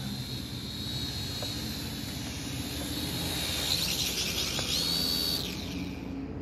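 A SYMA X600 foldable drone flies at night, giving a steady high-pitched whine of small propellers that holds at an even level throughout, heard fairly close and alone.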